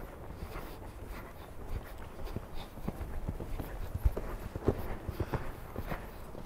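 Hooves of a ridden horse in a training session thud at a steady cadence, moderately faint and mixed with outdoor wind noise; no clear talk.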